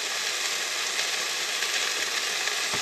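Broccoli and chicken frying in olive oil, a steady, dense sizzle that crackles on without a break from start to finish, close and fairly loud, with a faint knock near the end.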